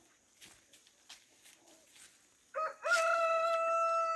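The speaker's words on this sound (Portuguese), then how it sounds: "As galinhas dele, ó, tudo solta. Tudo gorda." Free-roaming chickens scratch and cluck softly in a neighbor's backyard, then a rooster close by lets out a loud, drawn-out crow that fills the last part.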